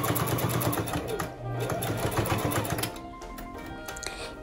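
A sewing machine backstitches fabric while making a drawstring cloth bag, a close, steady rapid needle clatter that briefly shifts pace at the reverse, with a voice talking over it.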